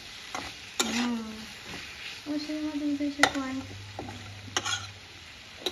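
Drumstick (sajne danta) vegetable pieces with green chili are stirred and sautéed in a pan for a fish curry, giving soft scraping stirs and a light sizzle with a few sharp utensil knocks, and a voice is heard briefly.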